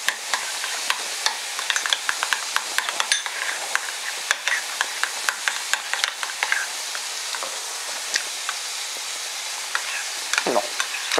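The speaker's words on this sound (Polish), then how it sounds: "Wykorzystamy łyżkę i mieszamy na sosik." Garlic sauce sizzling in a pan while a spoon stirs it, giving steady hissing frying noise broken by frequent quick scraping clicks, close and alone without talk.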